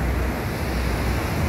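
Ocean surf rolls in beside a hotel pool in Condado, San Juan, Puerto Rico, a steady, loud, unbroken wash of breaking waves with some wind rumble and no voices.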